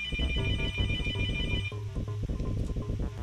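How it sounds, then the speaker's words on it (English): Phone ringtone for an incoming call at night, a loud repeating electronic melody ringing steadily and close, with no talk over it. "Who's trying to call me at 11 o'clock p.m.?"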